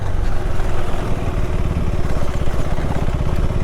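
KTM 390 Adventure R single-cylinder motorcycle engine loping at low revs in second gear on a snowy backcountry trail, a steady close chugging throb with even pulses and a rattly mechanical edge throughout.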